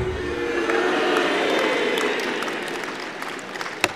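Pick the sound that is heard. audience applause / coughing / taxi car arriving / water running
audience applause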